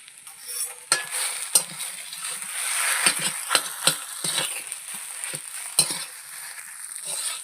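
Kochur loti (taro stolons) cooking in a pan with salt, turmeric, chilli, cumin and coriander powder, loud close sizzling under repeated clicking scrapes of a spoon stirring and mixing, no talking.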